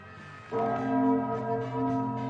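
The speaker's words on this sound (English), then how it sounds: "it's chime time." Clock chime bells ring the hour, a single soft bell strike that swells and hangs with a sustained, humming ring, quiet and heard alone.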